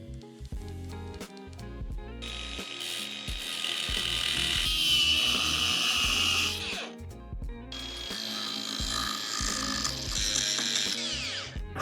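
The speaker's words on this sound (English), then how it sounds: "that was a bit more grinding and filing than I hoped for" Metalworking on a blacksmithing commission, grinding and filing a metal piece to fit snugly, with a sustained whirring power-tool grind, brief pauses and rasping, fairly close and moderately loud.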